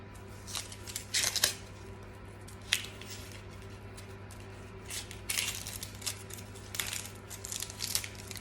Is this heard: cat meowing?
no